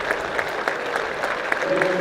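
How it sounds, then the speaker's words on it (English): A county cricket crowd at Edgbaston claps steadily for a batter's innings in a Vitality Blast T20 match between the Bears and Somerset, a dense, sustained ripple of applause with a commentator talking over it. "the applause is for James Rue's innings"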